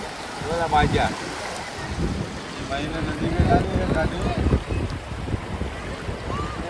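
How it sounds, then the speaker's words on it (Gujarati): A vehicle drives through water in the Shetrunji river, giving a loud, churning wash and splashing with rushing wind noise, while people talk over it. "આ અત્યારે વેનમાં ગાડી હાલી દે છે પાણીમાં ગાડી હાલે"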